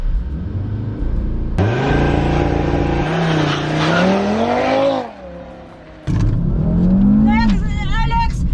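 A 2021 Audi RS3 launching under launch control, engine revving hard then surging through rising gears with a short lift between shifts, loud and close, with a voice heard along with it.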